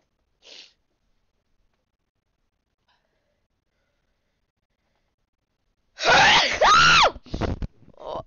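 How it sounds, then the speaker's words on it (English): A short faint burst early on, then a loud, sharp sneeze followed by a couple of quieter sneezy bursts and breaths near the end. "I have so much sneezes"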